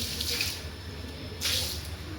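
Phenyl-mixed water is poured and splashed across a floor, a close continuous wash of water with two brief louder gushes, no talking.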